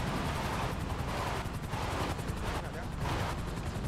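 Rapid gunfire in the GTA V video game, a dense continuous burst of shots running the whole time at steady loudness over a busy game backdrop of engines and traffic noise.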